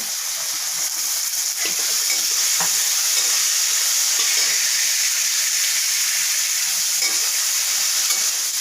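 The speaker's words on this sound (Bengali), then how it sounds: "বিনসটাকে ভাজতে দিতে হবে।" Loud, steady sizzling of green beans frying in a hot pan, the hiss continuous throughout with a few faint clinks of stirring.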